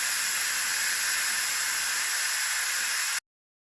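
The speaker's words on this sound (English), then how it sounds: "we're going to go ahead and let the steam off" An Instant Pot releases pressure while cooking a chuck roast, a loud steady hiss of escaping steam that runs evenly for about three seconds, then cuts off abruptly into silence.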